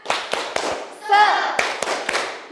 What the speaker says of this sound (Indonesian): Oke, biar tambah semangat kita tepuk semangat.